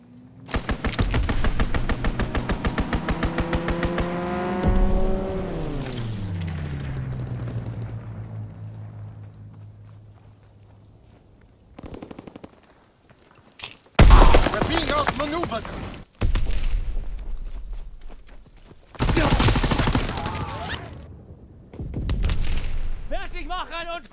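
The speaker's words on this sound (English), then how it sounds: "Strafing run inbound!" Sustained rapid gunfire from a strafing run in the World War II shooter Call of Duty: WWII, loud and dense at first, with descending engine-like tones, then several separate loud bursts and shouts later on.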